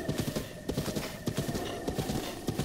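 Horse hooves clip-clop at a steady gallop in Zelda: Breath of the Wild, a rapid rhythmic patter of close, even beats with no talk.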